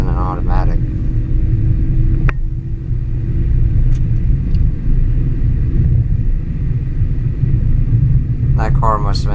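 A manual-transmission car accelerating hard in second gear, heard as a loud, steady low engine rumble that drones throughout, with short voice-like bursts near the start and end.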